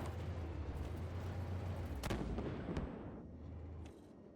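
Artillery fire booms in the tank video game Armored Warfare, a low rumbling blast with a sharp crack midway that then fades away. The sound is fairly quiet overall.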